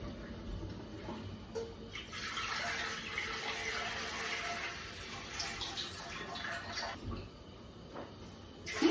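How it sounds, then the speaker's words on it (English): Water pours steadily into a metal canner, a soft continuous rushing stream that swells in the middle and tapers off, fairly quiet in an indoor kitchen. "we're going to fill our canner up with 3 quarts of water"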